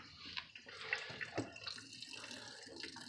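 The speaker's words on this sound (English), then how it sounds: "Turn on the water a little bit more and let's see what happens." Water runs through a repaired household pipe, coming out as faint, irregular splashing and trickling with small bursts and drips, close by and quiet, with no speech.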